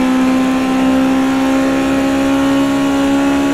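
A race car engine in a racing sim holds a steady, loud, sustained drone at full throttle on the Oschersleben circuit, with no talk over it.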